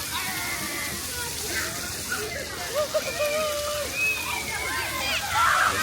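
Splash pad water jets in a downtown park splash and patter steadily nearby, with children's voices and bright outdoor chatter mixed over the continuous spray.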